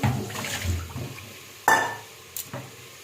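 Salted soaking water is poured off sliced eggplant in a gentle splashing rush, followed by a sharper splash and a couple of short drips and clatters.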